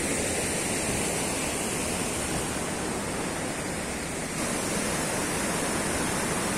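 Steady, dense rushing of the Felidia River, loud and constant throughout with no voices, a broad continuous roar.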